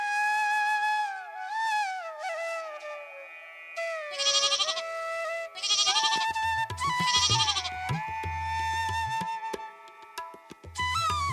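Cartoon goat bleats repeatedly over a continuous whistly melodic music bed, the bleats loud and close in several wavering calls.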